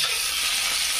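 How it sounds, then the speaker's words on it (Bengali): Onion sizzles in hot oil in a frying pan, a bright, steady crackling hiss that stays loud and even throughout, with no voices. "পেঁয়াজ এইটা এবার আমি ওইটার মধ্যে দিয়ে দেবো, দিলে পেঁয়াজ আর এইটা খুব সুন্দরভাবে ভাজা ভাজা হয়ে যাবে।"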